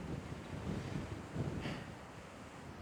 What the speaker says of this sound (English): I'm gonna wait for this gust, if there's an end to it.